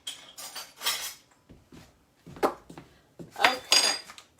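Spoon and kitchen utensils handled while preparing fresh ginger for a Somali chicken stew, giving several bursts of metallic clinking and scraping against dishes, close and moderately loud with quiet pauses between, no talking.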